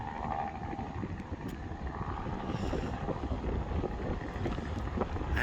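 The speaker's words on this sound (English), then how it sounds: "And it's windy and cold." Wind blows steadily at the St. Clair River boardwalk, a constant low rumbling buffet on the microphone throughout, fairly faint and with no voices.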